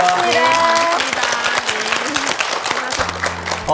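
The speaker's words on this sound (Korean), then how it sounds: "비앙카 씨 가족 계획 다 잘 이루어지라고 우리 격려 박수 좀 보내드리죠." Studio audience on a Korean TV talk show clapping in encouragement, a dense burst of applause that runs under music and a voice, loud and close, fading slightly toward the end.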